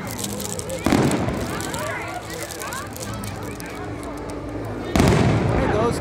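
Fireworks burst at SeaWorld in two loud, sharp booms near the start and near the end, with crackling and fizzing between them and people talking through the show.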